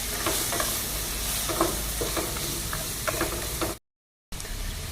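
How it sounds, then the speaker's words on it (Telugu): Tempering for mango pulihora fries in a pan with a close, steady sizzle and repeated scraping, clicking stirring strokes, then a brief silent gap before the sizzle resumes. "చూసారా ఎలా వేగుతూ ఉందో?"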